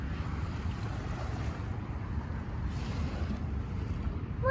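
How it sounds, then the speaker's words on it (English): Water at the beach makes a steady, broad wash, with low rumbling wind noise running continuously and no talk. "Do you like the sound of the water?"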